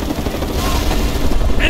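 Enemy helicopter rotor drone mixed with bursts of gunfire in the Mercenaries 2 video game, a dense, steady battle din throughout, with in-game voices calling out over it.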